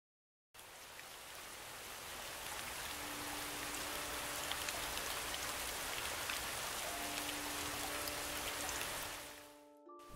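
Heavy rain pours steadily over the city of Gotham in The Batman film, a dense continuous hiss of falling drops with faint tonal score underneath, fading out near the end.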